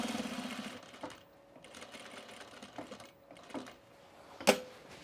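A sewing machine runs in short bursts while stitching fabric for a pair of overalls, its whirring motor starting and stopping between quiet gaps, with a sharp click near the end.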